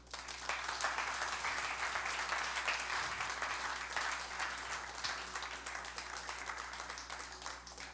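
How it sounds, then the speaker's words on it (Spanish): A church congregation applauds steadily for the full stretch, a dense, even wash of many hands clapping in a large hall with no break or voices standing out. "¿Por qué no le doy un aplauso a Dios por eso?"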